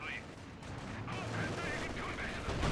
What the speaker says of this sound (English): Very good barrage.